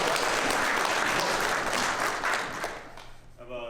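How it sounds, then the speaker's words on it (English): Audience clapping at a Shot Show 2020 panel, dense and loud at first, then thinning out as a voice begins speaking at the end. "Y'all can clap."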